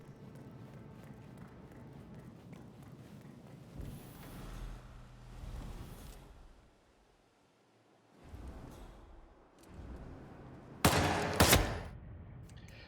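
Loud gunfire in Hitman 3, a sharp bright burst near the end after quieter ambient game sounds and scattered thuds, with no talking.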